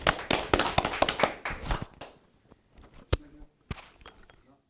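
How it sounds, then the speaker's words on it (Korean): Audience applause in a Korean academic conference hall greets the next discussant: a burst of dense hand clapping for about two seconds, then thinning to scattered last claps and taps. "박수로 맞이해 주시죠"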